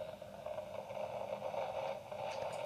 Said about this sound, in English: So it sounds like this hissing radio static noise.